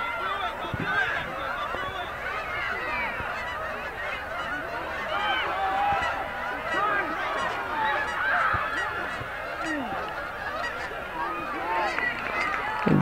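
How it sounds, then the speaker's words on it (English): A large flock of geese flies over a PeeWee football game in Champlain/Rouses Point, their overlapping honks filling the air steadily and loudly, with faint voices beneath. "A lot of geese coming over now."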